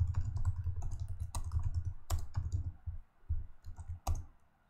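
Code being typed on a computer keyboard, a close, quiet flurry of uneven key clicks with a few louder taps and short gaps, no one speaking.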